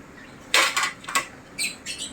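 A lid set onto a cooking pot of sinigang sa miso: a few light metallic clinks and taps, close by and fairly quiet, over low background hiss.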